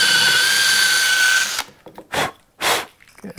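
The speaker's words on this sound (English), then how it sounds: "we're using a conical pointed drill bit to self-center this" Power drill fitted with a conical pointed self-centering bit boring a hole for a wooden drawer runner on a Shaker table, a steady high whine for about a second and a half, then stopping, followed by a few short bursts of noise.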